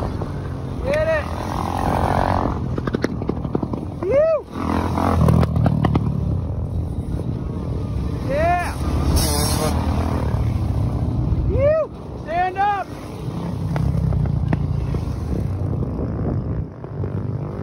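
Supermoto motorcycles, among them a 2021 Husqvarna 701 Supermoto, roar steadily around a dirt track with about 25 riders, engines rising and falling in repeated revs and pass-bys; voices shout and cheer over the motors.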